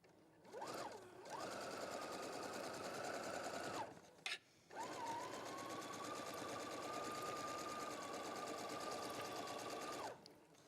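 A sewing machine runs twin needle edge and top stitching in two sustained bursts, a short run then a long steady one of about six seconds, with a brief stop between them.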